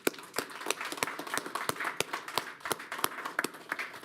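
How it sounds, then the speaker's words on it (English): Light applause at a school district board of trustees meeting, a small number of sharp individual claps standing out against a soft background wash, steady and unhurried throughout. "So round of applause for those guys."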